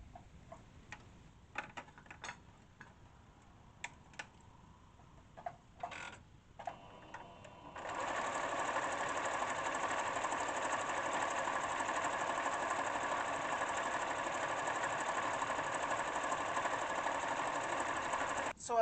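Sewing machine stitching denim scraps together: scattered ticks and short clatters at first, then a long continuous steady mechanical whir of rapid stitching running close and even until a brief stop at the end.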